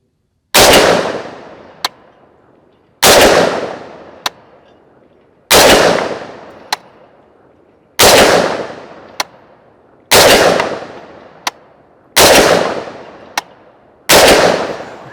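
A Bear Creek Arsenal .458 SOCOM rifle fires seven loud, booming shots at a slow, regular pace, each blast ringing out and fading, with a sharp metallic click following most shots; no talk over them.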